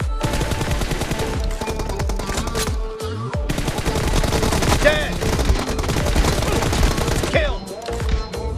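Rapid automatic gunfire rattles almost nonstop through a team deathmatch in a mobile shooter game, loud and close, with dense bursts, brief gaps and occasional distinct shots.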